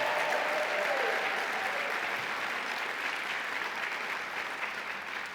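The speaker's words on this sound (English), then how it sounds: "Let's have a big round of applause for every one of them" An audience at an award and degree ceremony applauds convention volunteers in red shirts, broad sustained clapping from a large crowd that stays loud and even throughout.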